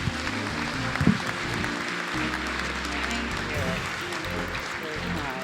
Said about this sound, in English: Let's give a good round of applause for our State Superintendent, Dr. Carrie Wright.